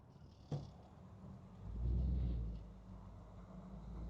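A 1946 Ford street rod coupe engine runs with a steady low rumble that swells louder around the middle before settling back, with a sharp click near the start.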